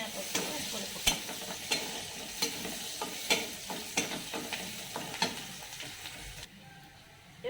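Onions frying in a pan, a bright continuous sizzle broken by regular scraping stirs roughly every half second, close and fairly soft, quieting near the end.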